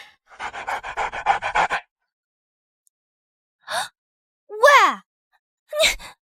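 A small dog pants in a quick, rhythmic burst of short breaths close up, followed after a pause by a few brief whining, moaning sounds.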